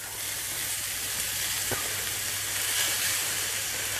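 Sliced onions hit hot bacon lardon fat in a pan for tartiflette, giving a steady, close, hissing sizzle with one brief crackle partway through.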